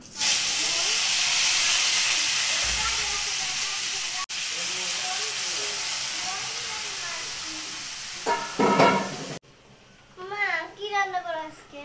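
Potatoes dropped into hot oil for egg curry give a loud, steady close sizzle that rises and fades, with a child and an adult talking over it and a short quieter stretch of voices at the end.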